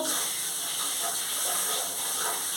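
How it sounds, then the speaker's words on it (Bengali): Steady hissing and bubbling of curry gravy simmering in a pan, a constant close sound with no pauses or voices. "দেখুন আমার ঝোলটা ফুটে উঠেছে"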